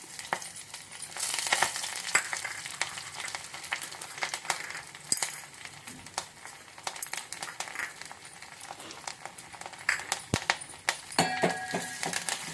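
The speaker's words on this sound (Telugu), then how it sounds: "ఇప్పుడు పోపు గింజలు కరివేపాకు అన్నీ వేద్దాము" Mustard seeds and curry leaves crackle in a small pan of hot oil for tempering, making a low, uneven sizzle broken by sharp pops and spits that keep coming and going over about twelve seconds.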